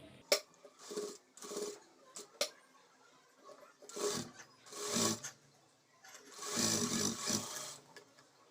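A sewing machine stitches a blouse lining in short separated runs, each a few seconds long with quiet pauses between, plus a couple of sharp clicks early on.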